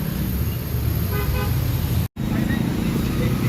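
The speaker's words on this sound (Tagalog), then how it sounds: "Yan, traffic pa rin po ngayong gabi." Heavy night traffic on EDSA in Manila, a dense roar of engines with a few short car-horn toots and a voice speaking over it, cut by a brief gap of silence.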